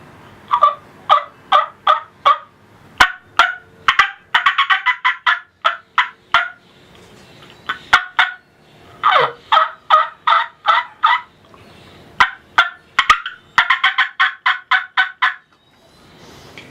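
Someone works a turkey hunting call to imitate turkey sounds, producing loud, close, rhythmic series of yelps and clucks in repeated bursts with brief pauses, and no talking.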